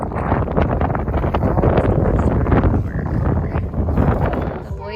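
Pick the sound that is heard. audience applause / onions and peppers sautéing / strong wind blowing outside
strong wind blowing outside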